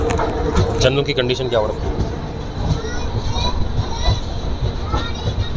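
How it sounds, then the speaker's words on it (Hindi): The Malwa Superfast Express standing at a busy Indian railway platform, a steady rumble with crowd noise and distant clatter, under close talk. "जी हाँ, और सामने खड़ी है मालवा सुपरफास्ट एक्सप्रेस।"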